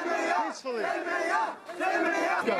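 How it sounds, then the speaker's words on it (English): Protesters in Tahrir Square during a battle with thrown rocks chant in unison, a loud rhythmic crowd of voices rising and falling in repeated phrases at fairly close range. "They're chanting peacefully."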